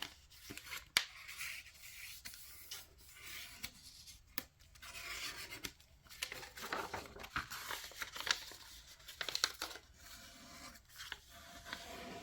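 Sheets of Chapter One patterned craft paper folded and creased by hand, giving soft crinkles, rubs and dry rustles in short irregular bursts, close up, with no talking.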